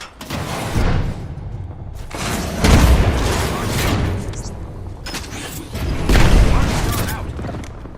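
Frag grenades detonate in a shooter video game, heavy booming blasts landing several times in a row with rumbling tails and gunfire-like crackle around them.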